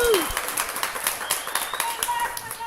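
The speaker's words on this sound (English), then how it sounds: "please give him a big round of applause" Audience at an old west melodrama claps for the hero Wyatt Holiday, a steady patter of handclaps with a host's voice cutting in at the start.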